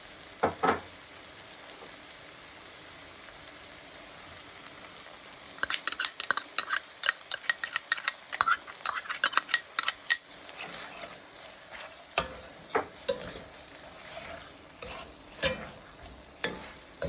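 Aromatics frying in a pan for Bicol Express after raw sugar and sauces go in, with a low sizzle under a busy run of sharp metal utensil scrapes and clinks, then sparser stirring knocks.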